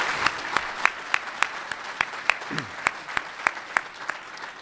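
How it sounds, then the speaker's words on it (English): Applause at a government cloud computing forum, heard as distinct, fairly regular claps that repeat steadily over a soft background rather than a dense roar. "So how about a warm round of applause for those folks?"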